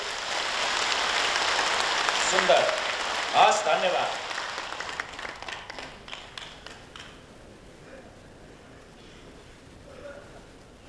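An audience at a motivational health talk claps together as an acupressure hand exercise. A sustained burst of clapping thins into scattered taps, and a voice speaks briefly over it.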